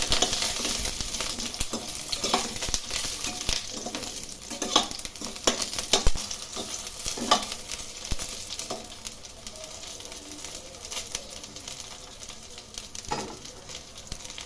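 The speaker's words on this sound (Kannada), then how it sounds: "ಇವಾಗ ಆಯಿಲಲ್ಲಿ ಫ್ರೈ ಮಾಡಬೇಕು ಚೆನ್ನಾಗಿ" Eggplant frying in oil in a pan, a continuous crackling sizzle with scattered sharp stirring taps and clinks, moderately close and without any talking.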